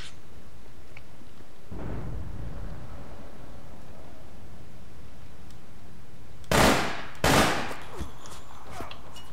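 Gunfire in the online shooter APB Reloaded: a few sharp broadband bursts, one early and two close together near the end, loud against a quiet background.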